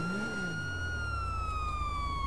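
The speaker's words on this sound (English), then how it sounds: "How do I turn the siren off?" Police car siren in the video game GTA V, a continuous wailing tone that slowly falls in pitch over a low engine rumble, steady and fairly close.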